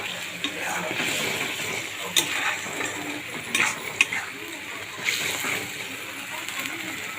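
Loitta (Bombay duck) fish curry stirred in a wok, with a few scraping knocks of the spoon over a steady wet simmering hiss, close and moderately loud.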